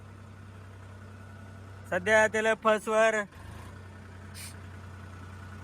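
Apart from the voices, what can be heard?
tractor engine idling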